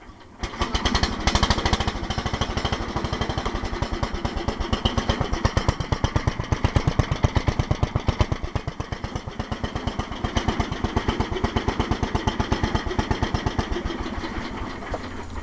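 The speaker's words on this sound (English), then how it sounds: "here's a startup of this. Nice tractor." An old tractor engine with freshly cleaned points fires up and settles into a fast, steady chugging beat, loud and close, running on without any talk.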